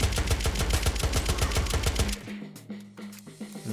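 Rapid automatic gunfire from a gun in Unturned Escalation, a fast regular burst of loud close shots for about two seconds, then stopping as the mag runs dry, with faint clicks and hums after.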